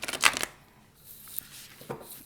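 Tarot cards being shuffled, soft riffling bursts at the start and end with quiet rustling between, close and faint with no talk.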